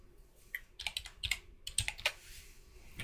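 Someone types on a computer keyboard in quick, uneven bursts of close clicking keystrokes with short pauses between them.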